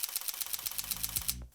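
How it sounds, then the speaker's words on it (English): A camera shutter fires in a rapid burst, about a dozen crisp, evenly spaced clicks in under a second and a half while the button is held, close and clear, then stops abruptly. "we're going to hold down our shutter"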